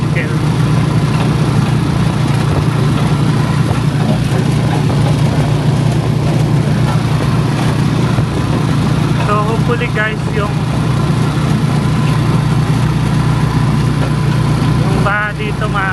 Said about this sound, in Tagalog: motor ng tricycle.